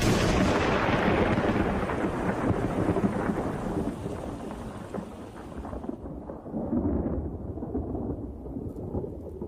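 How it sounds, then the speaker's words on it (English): Deep, rolling thunder rumbles continuously through a storm in the Okavango, Africa, loud and sustained, fading slightly before swelling again with the steady hiss of rain. "Each day, thunderstorms break overhead."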